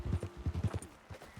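Horse hooves clip-clop in Red Dead Redemption 2 in a quick, rhythmic run of muffled thuds over a short stretch, fairly close.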